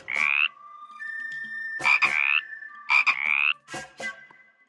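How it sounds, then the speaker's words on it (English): Several frogs croak in loud, close bursts, three or four rough calls rising and overlapping with steady trilling tones running between them, heard alone without talk. "And I just found some frogs."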